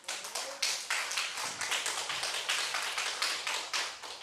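A church congregation at a Korean Wednesday dawn service claps together in a steady burst of applause, dense overlapping hand claps with a rhythmic pulse, fairly loud and without talking.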